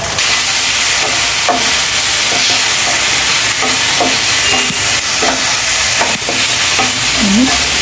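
Egg frying in a pan with turmeric, salt and tomato, a loud continuous sizzle broken by occasional stirring scrapes, with no talking.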